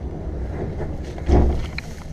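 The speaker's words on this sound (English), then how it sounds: "It's so windy in this stairwell right here." Gusty wind rushes through a stairwell and buffets the microphone, swelling briefly louder partway through, with no talking.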